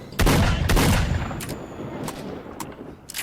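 Several loud gunshots crack in quick succession in S.T.A.L.K.E.R.: Shadow of Chernobyl, then a few more scattered shots follow with decaying echoes, like video game gunfire.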